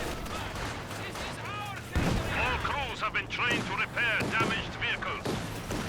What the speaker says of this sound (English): Pack 40 being destroyed by the Zis gun.